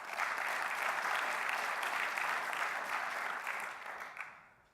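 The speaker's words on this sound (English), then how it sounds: "Let's give a round of applause for Mike Chen." A conference audience at a business plan competition claps warmly for a speaker, dense steady applause that holds for several seconds and then tapers off.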